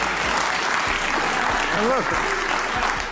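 Audience applause fills the whole stretch as a dense, steady wash of clapping, with a voice speaking over it.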